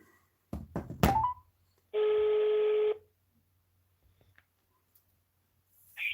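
A telephone number is dialed: a few quick button clicks, then one sustained dual-tone keypad beep lasting about a second, followed by quiet and a faint click.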